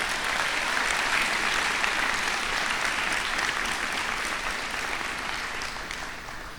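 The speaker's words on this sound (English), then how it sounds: "Let's give your parents and guardians a round of applause." A crowd at a high school graduation ceremony claps in sustained, dense applause from a large audience, holding steady and then gradually tapering off.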